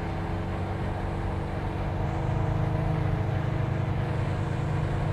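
A custom Chevy C10 short-bed truck with wide rear tires cruises at about three-quarter throttle, its engine a steady, smooth low rumble that holds constant throughout with a slight swell midway.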